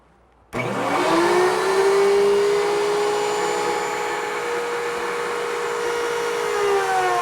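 Power tool cutting pocket-screw slots in a wood face frame, starting abruptly and then whining at a steady high pitch, close and loud with no talk.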